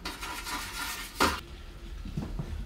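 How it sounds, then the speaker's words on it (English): Garlic being mashed into the caramelised juices of a roasting pan with a metal utensil, soft scraping and a sharp clink against the pan, close and quiet. "That's your garlic. You're just going to mash that in."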